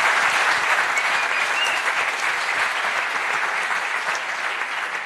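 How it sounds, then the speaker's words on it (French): Loud, sustained audience applause for an Olympic champion at a Paris 2024 presentation event with Olympic and Paralympic athletes, a thick, even roar of clapping hands that fills the full five seconds and fades only slightly at the end. "Champion olympique, monsieur Daryl Bultor, on l'applaudit encore."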